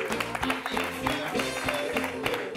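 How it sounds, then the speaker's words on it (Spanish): Audience applause for a volunteer at a live comedy show, a dense steady clapping from a crowd with voices and some music underneath, fairly loud throughout. "un aplauso para Iván"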